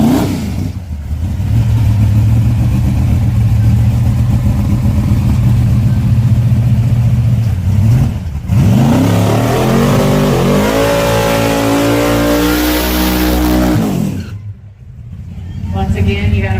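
A drag racing car revs hard and accelerates, a loud, sustained engine roar that climbs in pitch, drops briefly, then surges again, with an announcer's voice and crowd noise mixed in.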